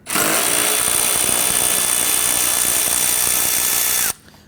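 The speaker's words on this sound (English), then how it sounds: "on the top of our bumper, we want to go ahead and use our 10mm socket" A power driver spins a 10mm socket to loosen a bolt on top of the bumper of a 2011-2015 Kia Sorento. A loud, steady whirring burst lasts about four seconds, then cuts off abruptly, with no talk.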